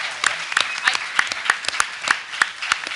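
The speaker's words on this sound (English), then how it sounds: "how about another round of applause for these guys?" Audience clapping at a university talent show, heard as sharp, evenly spaced claps in a steady rhythm with a faint murmur of voices underneath.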